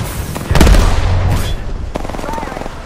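Apex Legends gunfire: a burst of rapid in-game shots hits loud around the middle, followed by quieter scattered shots and game effects, with a character voice speaking briefly.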